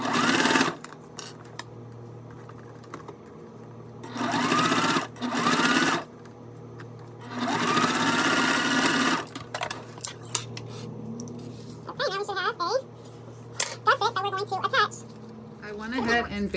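Topstitching a fabric bag, a sewing machine runs in two or three loud, close, whirring bursts separated by pauses, with a person speaking in between and afterward.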